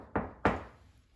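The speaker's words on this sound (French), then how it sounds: "La fillette frappa à la porte." Two sharp knocks on a door, close and fairly loud, spaced about a third of a second apart, each fading quickly into a quiet room with no voices.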